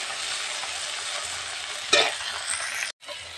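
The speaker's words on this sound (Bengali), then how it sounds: "এইভাবে টমেটো আর পেঁয়াজটা এইভাবে ভেজে নিতে হবে।" Chopped tomato and onion fry in a pan, continuous close sizzle with a brief louder stir around the middle and a short gap near the end, no talk.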